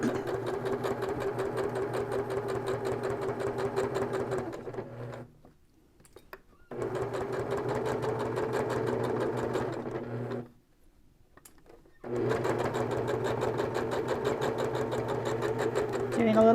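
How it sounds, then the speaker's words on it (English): A sewing machine stitches the side seam of a fabric popcorn bag, running in three long steady buzzing bursts separated by short pauses, close and clear. "So we're going to stitch a little, do a little back stitch, and all the way up the side."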